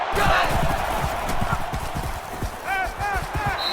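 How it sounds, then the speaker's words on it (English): A stadium crowd in an NCAA college football video game roars continuously during a Big 12 title matchup between Baylor and Oklahoma. The steady, loud wash of noise has a few whistle-like chirps near the end and no clear talk over it. "This crowd is amazing."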